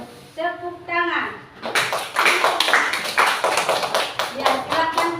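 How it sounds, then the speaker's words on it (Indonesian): Children in a classroom clapping after a teacher speaks, a ragged burst of close, sharp handclaps following a short spoken phrase, with voices talking over the tail. "Ya, berikan tepuk tangan."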